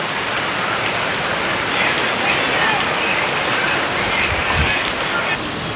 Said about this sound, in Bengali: অনেক বৃষ্টি হচ্ছে, রাস্তায় দেখেন একদম মানুষ নাই।